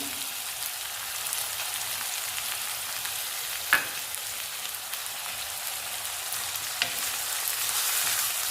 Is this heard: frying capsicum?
yes